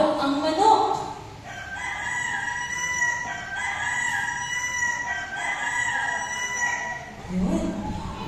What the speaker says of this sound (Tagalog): nang biglang tumilaok ang manok